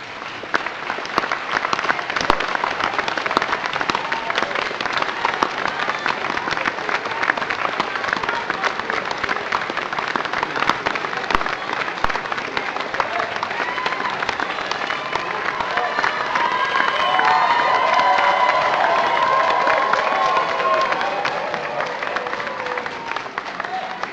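University graduates at a graduation ceremony stand and applaud their supporters, a sustained loud ovation with scattered cheers, swelling slightly louder toward the end.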